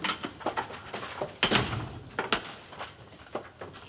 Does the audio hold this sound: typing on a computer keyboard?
no